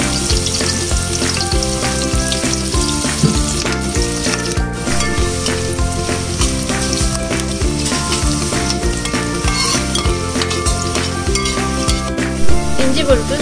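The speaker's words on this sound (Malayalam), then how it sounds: "ഇഞ്ചി വെളുത്തു നല്ലപോലെ മൂത്തിട്ടുണ്ട്." Ginger, green chillies and curry leaves fry in hot oil for a Kerala mutton roast, a steady close sizzle with frequent scrapes and light clinks of a spoon stirring against the pan.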